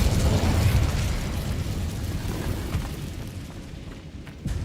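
A fire spell's explosion bursts in Hogwarts Legacy, a loud low whooshing boom at the start that rumbles and fades over several seconds, followed by a smaller pop near the end.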